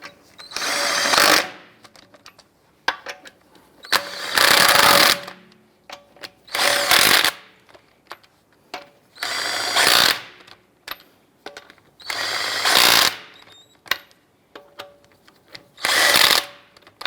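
Lug nuts on a 2010-2016 Cadillac SRX wheel are snugged down with a power tool, heard as six separate bursts of whirring and rattling about a second each, evenly spaced with quiet gaps between them.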